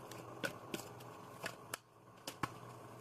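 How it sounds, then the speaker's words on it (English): Tarot cards are shuffled close by in a quiet room, giving a handful of sharp, separate riffling snaps spread unevenly over a few seconds. "So let's keep shuffling here."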